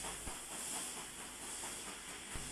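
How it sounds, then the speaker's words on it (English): A steam locomotive hauling the Rheingold pulls in, releasing a steady, fairly faint hiss of steam with a couple of soft low thumps. "the Rheingold, which arrived in a cloud of smoke and steam."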